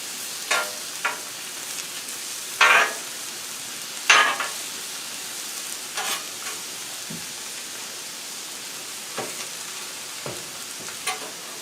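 N.Y. strip steaks and mushrooms sizzle steadily on a Blackstone griddle, with a continuous hiss of frying broken by several louder crackling pops and spatters, and no talking.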